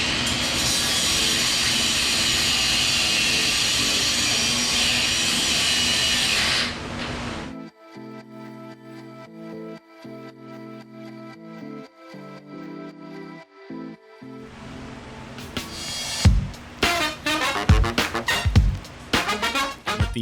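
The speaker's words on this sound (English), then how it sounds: "so it was time to break out the grinder" Loud, harsh abrasive grinding of seized exhaust manifold nuts fills the first seven seconds, then gives way to a steady mechanical hum, followed by sharp metallic scraping bursts near the end.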